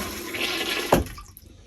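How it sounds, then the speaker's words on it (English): An RV toilet, a brand new replacement unit, flushes in one short, sharp whoosh of water that peaks and then drains away into quiet. "But we'll go ahead and flush."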